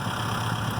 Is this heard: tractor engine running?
yes